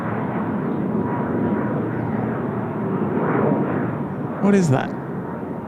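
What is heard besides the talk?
Airbus A330 aircraft at Incheon Airport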